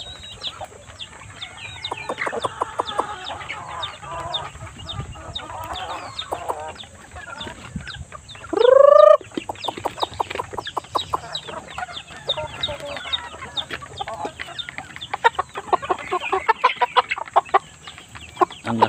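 Chickens of Basilan, Asil and other breeds at a poultry farm, clucking and murmuring continuously nearby, with one loud rising squawk partway through and busier clucking toward the end.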